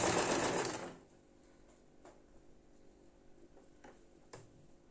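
A sewing machine runs in a fast, buzzing burst while stitching a scarf made from an old headscarf, then stops, leaving faint ticks and clicks.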